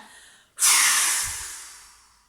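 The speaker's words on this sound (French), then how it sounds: "Et à l'expire, on dégage." A forceful exhale during a sophrology breathing exercise, one loud breathy rush of air close to the mic that starts abruptly and slowly fades away, with no talking over it.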